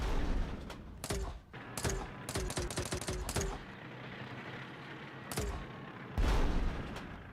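Cannon fire from tanks in the Retro Tanks game on Xbox One: a quick cluster of sharp, punchy shots, then a couple of isolated blasts later, loud and close over a constant dense game background.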